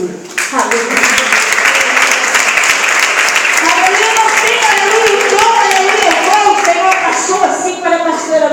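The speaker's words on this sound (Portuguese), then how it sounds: "Aplauda o Senhor." Congregation at a family worship service in a church applauding the Lord, loud continuous clapping sustained for over eight seconds, with voices and shouts rising over it.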